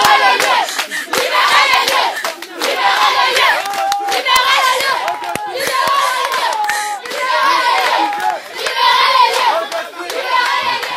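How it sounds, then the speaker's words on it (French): Large village crowd in Kabaga, Haut-Ogooué, Gabon, loudly booing and jeering a prefect during a food-aid distribution gone wrong, a continuous dense roar of shouting voices with scattered claps throughout. "copieusement huée et conspuée par les populations de la bourgade de Kabaga dans la province du Haut-Ogooué"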